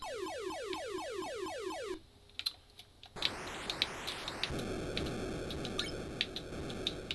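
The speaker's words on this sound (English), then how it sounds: "tweeting sound is when you try to fire, but you don't have any more missiles in the tank" Atari 2600 Missile Command beeping with a rapid run of descending electronic chirps, like a little tweet sounding when firing with no missiles left, followed by sparse blips and then a busier stretch of game noise.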